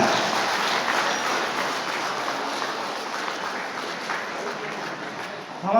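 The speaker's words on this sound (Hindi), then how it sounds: "तालियां जोर से बजाना है।" Audience at a trade union federation gathering in Pasighat, Arunachal Pradesh, clapping steadily throughout, a dense sustained patter of many hands at moderate distance.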